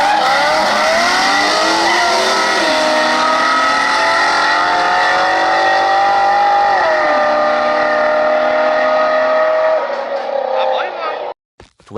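Cars street racing on surface streets, one a new 2020 Corvette, with loud engines revving and rising in pitch through gear changes, tires squealing over the sustained roar, cutting off near the end.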